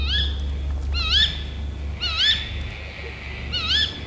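A bird, tagged as an owl, gives repeated rising, warbling outdoor calls in short bursts about a second apart, fairly clear over a low steady hum, with no one talking.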